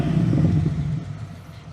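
A Ford AU Falcon XR8 V8 ute gives a short blip on the throttle, a deep, close rumble that swells briefly and then fades away.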